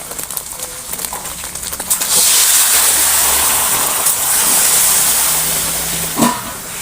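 A sudden burst of hissing steam erupts after some clattering as water is poured into a hot pan with fried egg, holding steady and loud before fading slightly toward the end.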